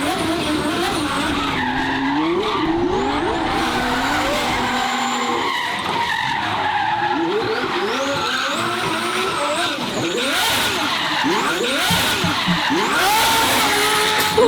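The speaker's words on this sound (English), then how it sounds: "the car barely sounds like it's revving and it's just sliding so effortlessly" A twin-turbo Ferrari V12 sliding with tires squealing and skidding in long wavering tones, the engine revving low and relaxed beneath, loud and close and continuous, with no talking.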